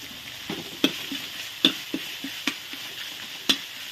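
Curry paste frying in coconut fat for a Thai pumpkin curry, a soft steady sizzle broken by a few sharp scrapes and taps of a spoon in the pan, with no talking.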